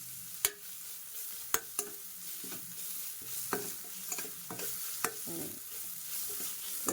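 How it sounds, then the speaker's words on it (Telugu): Chopped coriander being stirred and fried in a pan for restaurant-style coriander rice, a steady sizzle broken by sharp scrapes and clacks of a spatula against the pan at irregular intervals, close and fairly quiet with no talk. "చూసారు కదా నీట్గా కొత్తిమీర వేగిపోయింది"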